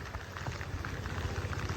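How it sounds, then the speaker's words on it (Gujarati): Steady rain falls over paddy fields in a village during the rice transplanting season, with water running off through the fields as a continuous, even patter and wash. "વરસાદ ચાલુ છે અને પાણી વહી રહ્યું છે ખેતરોમાંથી"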